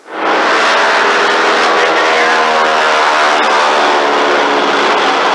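A small airplane accelerating for takeoff toward about 120 mph, its engine swelling quickly into a loud, sustained, close roar that holds steady throughout.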